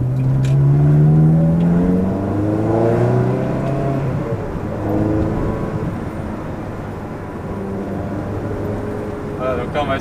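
A Ferrari 360 with an F1 gearbox downshifting, the engine dropping in pitch through a falling rev sweep and then holding a low steady drone, with someone talking over it inside the car.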